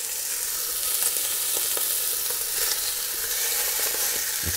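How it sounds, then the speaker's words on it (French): Wood pigeons and lardons browning in a hot pan give a steady, close sizzle and crackle with scattered sharp pops and faint utensil taps, and no voices. "On va les faire dorer dans toutes les faces."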